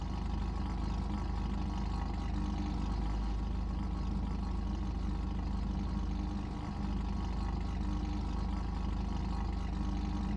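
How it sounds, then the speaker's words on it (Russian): Car engine idling with a stock muffler in GTA Online, a steady low continuous rumble held at an even level throughout, with no voices. "Теперь работа на холостых оборотах."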